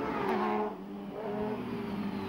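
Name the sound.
endurance race bike leaving the pits after a pit stop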